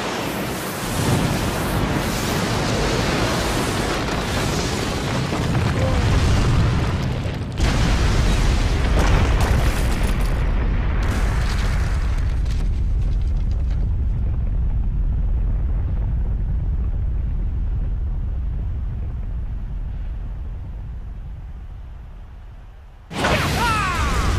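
Fire style and wind style jutsu attacks in the game Naruto Ultimate Ninja Storm Revolution roar as sustained, loud explosive blasts and rushing whooshes that fade to a low rumble, then end in a sudden final burst.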